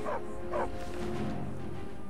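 Two short barks from the dog companion Dogmeat in Skyrim, close and fairly loud, a quick pair followed by lingering game ambience.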